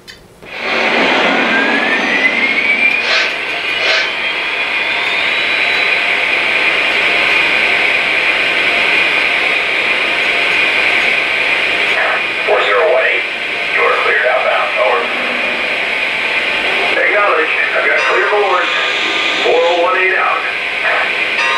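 Lionel Vision Line Big Boy model train engines, alongside a Legacy EM-1, starting up on a layout. A loud, continuous hiss and hum is joined by a rising whine early on and by intermittent chuffing, with voice-like sounds layered in.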